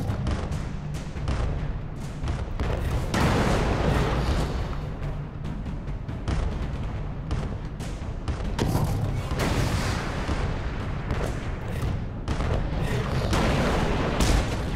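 Heavy gunfire and booming shots fill Alice: Madness Returns as a crab enemy fires, forming a dense continuous barrage with loud rumbling blasts throughout.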